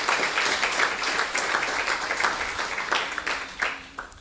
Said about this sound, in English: a big hand of applause for that